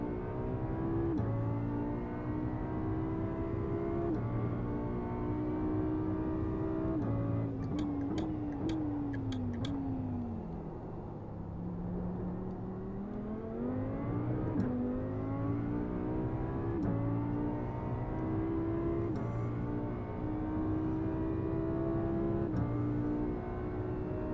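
A GT3 race car in a racing video game at Spa, in wet night running, revs steadily through the gears, its engine note climbing and dropping as it brakes and accelerates, with sharp ticking clicks throughout.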